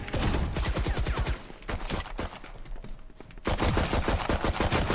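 Rapid automatic gunfire from the Valorant shooter game rattles in dense bursts, a quick string of shots, a brief lull with scattered rounds, then another long sustained volley, loud and close.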